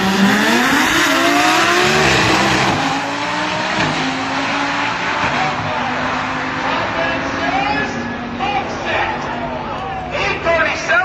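Lamborghini and Audi cars race in a DCT drag race shootout, engines roaring at high speed with tire squeal, the sound loud at first and then sustained, while an announcer's commentary runs over it.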